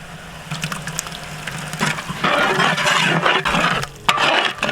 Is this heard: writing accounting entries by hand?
no